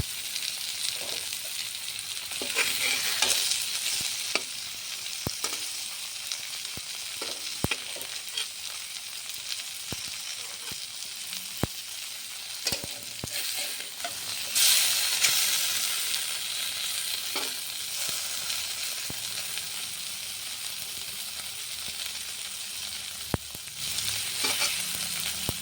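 Puti fish sizzle in a frying pan with a soft, continuous crackle at moderate volume, broken by scattered sharp clicks and taps as the pieces are moved and turned.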